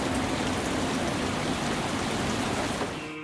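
Rain falling outside on a rainy morning, a dense, even hiss of drops on surfaces, steady and close throughout with no voices.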